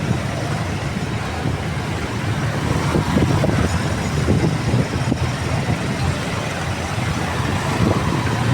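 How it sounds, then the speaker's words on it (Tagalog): Dense street traffic in Divisoria, with cars and trucks idling and creeping, a continuous low engine rumble and road noise close around, no talking. "Traffic guys, traffic."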